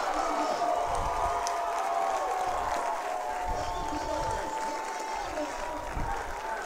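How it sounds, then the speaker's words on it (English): Loud stadium crowd at an Averett versus Maryville college football game, a dense, steady roar of cheering and whooping with scattered clapping that stays high throughout, with voices mixed in. "Blue Crew in the crowd is loud"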